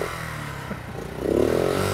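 A tiny motorbike's small engine revs up as the clutch is feathered, a thin buzzing that swells and rises in pitch in its final second, close by with some clatter and no talk.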